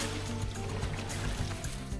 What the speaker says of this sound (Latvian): Tagad pats grūtākais uzdevums - smago laivu izcelt ārā